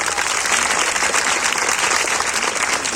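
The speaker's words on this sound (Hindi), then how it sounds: "तो मैं ऐसे कार्यकर्ताओं के लिए, ऐसे कमेटी के लिए जोरदार ताली आपसे चाहूंगा।" Loud, steady applause from an audience gathered at a village religious storytelling event in Bahadurpur, honoring the organizing committee and volunteers; dense continuous clapping with no voices.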